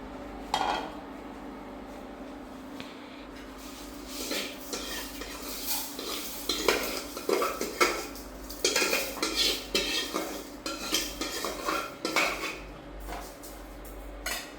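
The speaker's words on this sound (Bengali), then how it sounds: "চালগুলি আমার ভাজা হয়ে গেছে। এখন আমি একটা পাত্রে নামিয়ে রাখবো।" Dry-roasted rice for a cow's-milk payesh is scraped out of a wok into a bowl. Close metal scrapes, clinks and clatter come in irregular bursts, with no talk.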